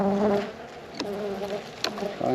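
Honey bees buzzing around an open hive during a winter food-store check, a close, steady droning hum with a couple of sharp clicks or taps in between.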